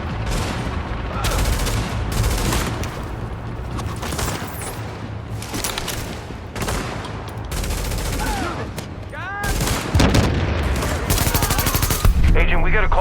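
Sustained gunfire in Tom Clancy's The Division, bursts of automatic and single shots rattling almost continuously across the scene, loud and close, with voices shouting over the shooting and a burst of heavier blasts near the end.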